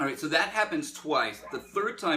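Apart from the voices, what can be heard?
None of the usual background noises is heard.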